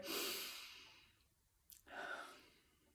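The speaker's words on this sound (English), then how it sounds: "just kind of like take a nice deep breath in" A slow, deep breath drawn in during a guided meditation, an airy rush that swells and fades, followed by a short pause and a second softer breath, close and quiet.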